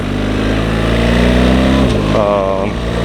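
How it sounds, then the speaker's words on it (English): A BMW R1300 GSA motorcycle engine revving steadily under hard acceleration, then a brief dip as it shifts up and the pitch climbs again, with a voice talking over it throughout. "There is a slight jerk when you accelerate hard and it shifts gears, which is understandable."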